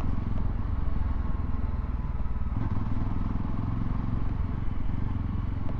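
A Yezdi Roadster motorcycle rides along with a steady, close, throbbing engine note and rumbling low thump, holding an even throttle throughout with no talking.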